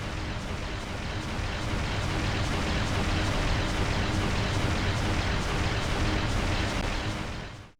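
Missile explosions in the video game Metroid Prime, a dense continuous barrage of loud booming blasts in steady rapid succession, filling the whole stretch before cutting off abruptly at the end, with no voices.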